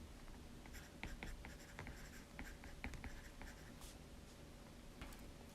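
A stylus writes by hand on an iPad screen in a note-taking app, making soft, quick scratchy taps and strokes in short bursts, close and quiet.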